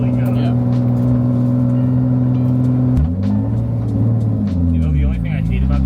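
A loud BMW engine drones steadily with deep harmonic rumble, then revs and shifts pitch up and down over the last few seconds, close and continuous.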